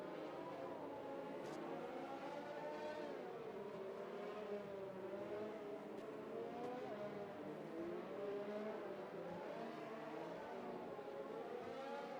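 Formula One race car in the F1 2020 video game, at the French Grand Prix, weaving to warm its tyres before a restart: a steady, continuous engine whine rising and falling in pitch, with no voices.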